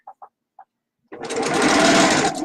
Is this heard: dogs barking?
no